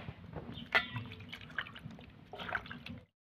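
Peeled ripe papaya rinsed under running water, with a steady soft trickle and scattered drips and splashes throughout, close and fairly quiet.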